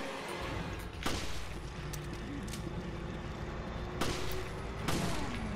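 Gunfire in Resident Evil: Revelations: a few sharp shots spaced across a steady noisy game background, each a sudden loud crack standing out from the rumble, with no talk.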